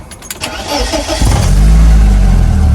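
A BMW Z3 that has stood for a week cranks briefly, then its engine catches and settles into a loud, steady idle heard up close.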